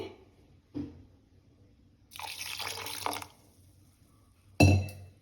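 Water added to a mixer jar while grinding a cooling summer drink, with a short clink at first, then a splashing pour lasting about a second, and a sharp knock of the jar near the end, no talking.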